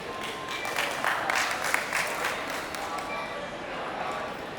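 An audience at a Shirdi Sai temple event with para-athletes bursts into sustained applause, a dense wash of clapping with voices mixed in.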